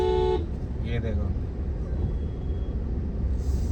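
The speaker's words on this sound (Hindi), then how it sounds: "कौन बदतमीज हॉर्न बजा रहा है" A car horn honks briefly on a busy road, a short loud toot at the very start that gives way to rumbling traffic while someone talks over it.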